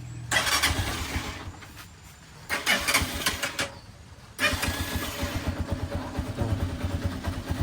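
A Honda TMX motorcycle engine, hard to start when cold, cranks and sputters in short bursts, stalling between tries, then catches and runs with a steady rapid putter.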